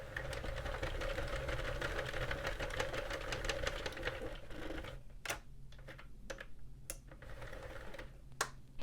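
A Sentro or Addi knitting machine knits a row, giving a fast run of mechanical clicking and whirring that then breaks into sparser, sharper clacks and ticks, all close by with no talk.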